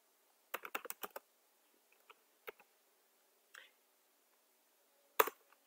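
Someone types a router command on a computer keyboard, with a quick burst of soft keystrokes followed by a few scattered taps and one sharper final key press, all faint and close.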